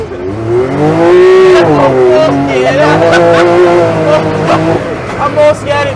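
A buggy engine revs hard and loud as the vehicle turns, its pitch rising and falling continuously with wind rumble over it and voices talking.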